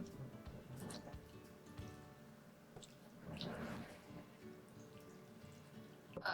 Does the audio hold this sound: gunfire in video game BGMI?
no